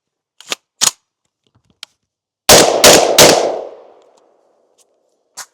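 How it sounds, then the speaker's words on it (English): A Genesis Arms GEN-12 shotgun fires three rounds of buckshot in quick succession, with loud close blasts and a decaying echo, preceded and followed by a few metallic handling clicks. "Okay, so I'm going to start off with 3 rounds of buckshot."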